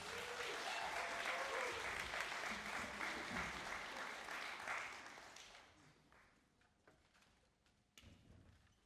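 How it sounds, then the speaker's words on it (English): Concert audience applauding a college jazz ensemble after a piece featuring the saxophone section and piano, a full wash of clapping that holds strong for five seconds and then thins and fades, with a few late claps and a thump. "Let's give them a round of applause."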